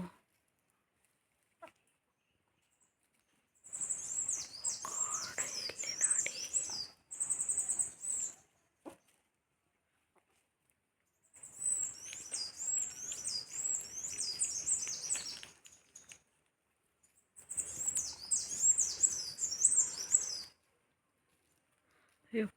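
Birds near a village chirp in three separate bursts of rapid, high twittering calls, with near-silence between the bursts.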